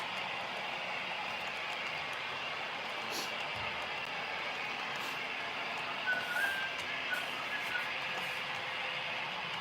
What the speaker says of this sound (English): I'm gonna let the train go by first.